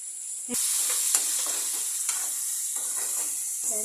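Telangana-style okra curry with turmeric being stirred in a pan, a steady close sizzle with soft scraping strokes throughout, no talk.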